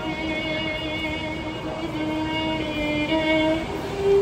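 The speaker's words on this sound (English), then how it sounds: "we're in the train now on the way to our surprise" Steady rumbling train ride noise in New York City with sustained tonal hums and whines, continuous and fairly loud throughout, no talking.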